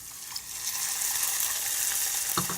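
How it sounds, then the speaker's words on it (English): Hot oil sizzles and crackles steadily as ginger fries in a pan, a bright hiss close by with a small clink near the end. "once the sizzling from the ginger has gone down a bit"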